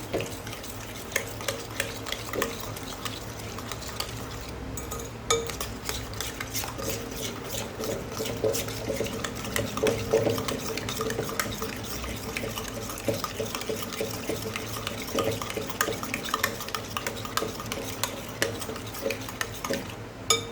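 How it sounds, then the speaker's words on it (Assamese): Sugar and eggs whisked by hand in a bowl for a homemade cake batter: rapid, continuous scraping and rattling strokes of the whisk at close range, steady throughout with no talking. "চেনি আৰু কণীখিনি মিলাই দিম।"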